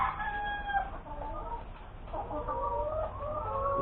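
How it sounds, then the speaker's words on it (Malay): Young laying hens cluck and call inside a coop, several birds making overlapping soft clucks and short tonal calls at moderate distance, with no talk. "Ini ayam yang di dalamnya."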